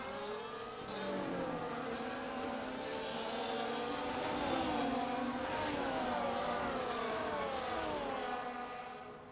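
Racing engines from F1 24 drone and whine at a steady, sustained level at Great Britain, several cars' pitches overlapping and sweeping up and down as they pass, with no talk.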